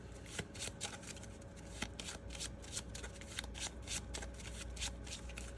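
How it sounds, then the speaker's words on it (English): Real playing cards are shuffled by hand during a tabletop card game, a rapid, crisp riffling flutter that runs continuously and close up, fairly quiet, with no talking. "shuffle the topmost magnetic card in your discard pile into your deck"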